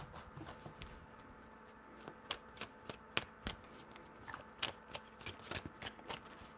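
A deck of tarot cards is shuffled by hand close up, giving a quiet run of sharp riffling snaps and soft slaps spaced irregularly over several seconds.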